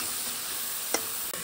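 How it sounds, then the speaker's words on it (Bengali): Potato, onion and carrot frying together in a pan on an induction cooktop, a steady close sizzle with a couple of brief clinks from stirring. "এবার এটা একটু ভাজবো, সিদ্ধ হবে, ভাজা ভাজা হবে।"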